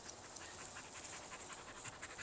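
A dog in a halter pants steadily during off-leash training outdoors, quick soft breaths repeating close by under a hiss of background noise, with no talking.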